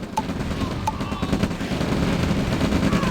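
Rifle infantry gunfire in the real-time strategy game OpenRA Red Alert, a rapid crackle of small-arms shots over a dense battle din, continuous and fairly loud throughout.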